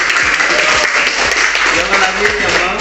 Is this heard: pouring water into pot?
no